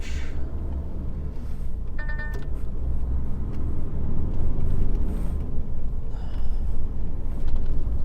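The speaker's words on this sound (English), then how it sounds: "car coming up" A car approaches along a narrow rural road near a side road, its engine rumble building steadily from a low drone to a closer, louder pass with no talk.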